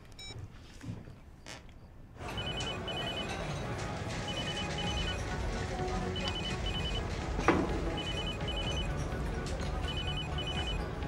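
A telephone rings in repeated electronic bursts while a call is placed, a steady ringing pattern running over a low room hum with no voices.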